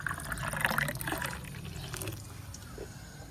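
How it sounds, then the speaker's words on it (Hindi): Milk soda drink poured into glasses in a village kitchen, a soft liquid splash and trickle that is loudest in the first second and then thins out, with no talk. "तो आपने गिलासों में डालेंगे जी ये वाला चीज"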